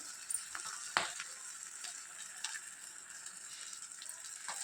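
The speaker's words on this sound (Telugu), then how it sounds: "చూడండి ఈ విధంగా పిండిలో ముంచి ఆయిల్ డీప్ ఫ్రై చేసుకోవాలండి" Bajji fritters in gram-flour batter made without soda deep-fry in oil, giving a faint, steady sizzle with a few soft pops and crackles.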